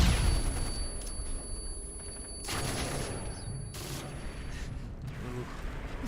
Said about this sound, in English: Stun grenades.